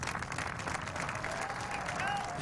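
Golf gallery at the 2009 U.S. Open applauding Phil Mickelson as he walks up to the green, a steady wash of clapping from a large crowd with a commentator talking over it.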